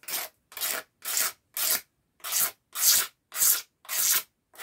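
A cutter blade scraping along the edges of a plastic part to deburr them, nine rhythmic rasping strokes with short silent gaps between, close and fairly loud, no talk.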